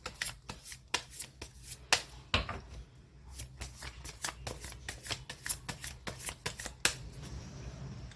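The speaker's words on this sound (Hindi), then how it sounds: "पहले कार्ड्स को मैं शफल करके बता लेती हूँ आपको मैं।" A deck of tarot cards is shuffled by hand, giving rapid, crisp riffling and slapping bursts in an uneven rhythm, close and clear with no talk.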